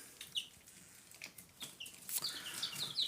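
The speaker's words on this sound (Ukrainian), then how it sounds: "так що курчатка гарненькі, всі ростуть" Faint, high peeping chirps come in scattered bursts from young chicks, soft and near, over a quiet background.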